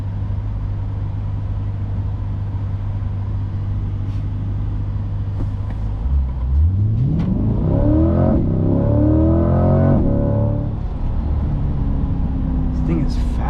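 A 2024 Chevrolet Corvette C8 with an aftermarket exhaust and aftermarket rims accelerates hard in daytime driving, a steady low drone rising into a loud, climbing engine roar midway, heard from inside the car.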